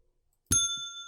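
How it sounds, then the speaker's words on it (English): A desk bell from the Bibliocraft mod in Minecraft gives a single bright ding that rings on and slowly decays after a moment of silence. "make a desk bell and just ring it repeatedly to annoy people"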